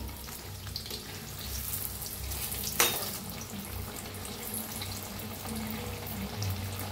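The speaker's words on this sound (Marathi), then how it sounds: "बघा एकदम छान असं तळायला लागलेत वडे आपले" Round rice-flour vadas deep-fry in hot oil with a soft, continuous sizzle and bubbling, broken by one sharp click midway.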